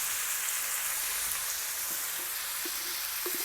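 Vegetables with turmeric cooking in a pan for a Telangana-style veg thali, giving a steady soft sizzle with a few faint clinks of stirring against the pan, quiet and continuous, no talk.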